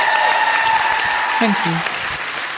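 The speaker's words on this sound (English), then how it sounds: "I just want to have our moment to applaud" Audience applause at a live San Francisco show, sustained clapping that tapers slightly as someone says a brief thanks over it.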